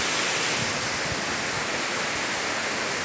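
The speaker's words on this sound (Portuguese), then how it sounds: "Cachoeira Grande." The Véu das Noivas waterfall at Piabetá pours down in a dense, loud, continuous roar of rushing water, heard up close with no voices.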